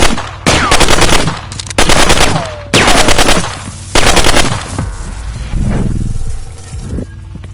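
Loud, close gunfire comes in several rapid-fire bursts separated by short gaps, ending in a quieter rumbling tail.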